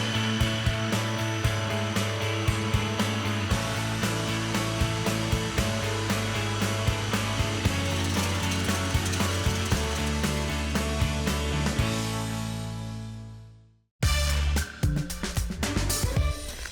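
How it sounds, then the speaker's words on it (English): A food processor blitzes ricotta cheesecake mixture with orange, a loud steady motor whir running for about fourteen seconds before stopping abruptly, then a brief burst of clattering handling noise. "lid goes on, and we're going to blitz it until it's silky and smooth"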